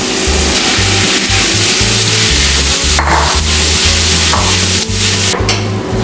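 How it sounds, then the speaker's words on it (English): Crab meat fries in a hot pan at an Indian non-veg eatery in Madurai, giving a loud, steady sizzle with a busy run of stirring and scraping throughout, no voices over it. "Then let's dump in our crab meat into the pan"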